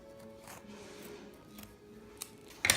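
Scissors trim fabric while a tote bag is sewn, a few quiet, separate snips over a soft room hush, with a sharper close cut at the end.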